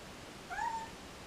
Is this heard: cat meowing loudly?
yes